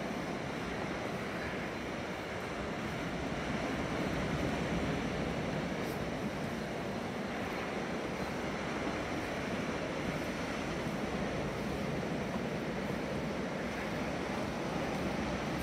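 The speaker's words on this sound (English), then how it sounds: "Quite choppy by the look of it. Good little substantial little waves." Choppy sea waves wash onto the beach at Dunwich with the tide out, a steady broad rushing surf that runs continuously with no talk.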